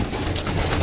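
Pigeons coo at close range, a brief low murmur over a dense rustling background with no talk.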